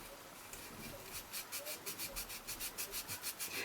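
A Tamiya 1/24 Ford Mustang GT4 model car body is rubbed with a sanding sponge in quick, even back-and-forth strokes, a soft raspy scratching pulse close up and fairly quiet.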